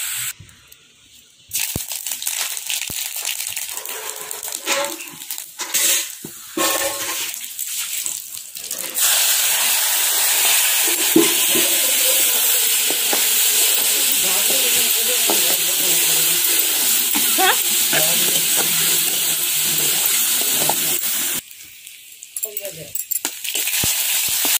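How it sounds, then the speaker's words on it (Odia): Coconut greens being tempered with green chillies in a home kitchen, hot oil sizzling loudly and steadily for most of the stretch, with quieter clatter and stirring at the start and a brief lull near the end. "ଏବେ ଶାଗକୁ ଛୁଙ୍କ କରିଦେବା।"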